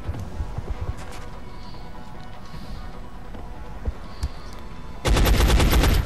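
Scattered faint shots and clicks sit under a low hum in the video game XCOM: Enemy Unknown, then a loud rapid burst of automatic gunfire erupts near the end.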